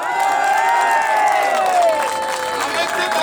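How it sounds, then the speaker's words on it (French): A crowd at a Yellow Vest rally in Geneva cheers and whoops with scattered applause, lively and close, with voices rising and falling. "Applaudissez fort, très très fort."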